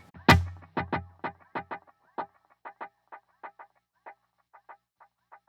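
A single sharp electric guitar note through a delay pedal set to long, low-level feedback, followed by a long train of repeating echoes that fade gradually, each repeat quieter than the last.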